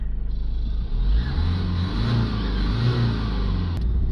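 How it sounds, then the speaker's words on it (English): A Ford Mondeo 1.6 with boost sensor and fuel pressure regulator faults cranks, starts and revs, its engine rising into a loud, close, uneven roar that settles to a rough idle. "Now that we have bled it up, it should just start up now."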